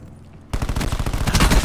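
Gunfire in a video game bursts in abruptly after a quiet start, a loud, rapid automatic volley of shots firing continuously to the end.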